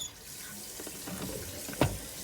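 Water runs from a tap under a wash hand basin, a steady soft hiss with faint splashing and one brief louder knock near the end, no talking.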